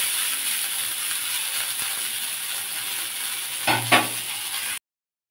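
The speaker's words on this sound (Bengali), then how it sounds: "এখানে তেল দিয়ে দেবো, দিয়ে ফুলটাকে ভালো করে ভেজে নিয়ে তুলে নেব" Washed jukti flowers cook in a wok, giving a steady, even sizzle with a couple of brief stirring scrapes near the end before the sound cuts off.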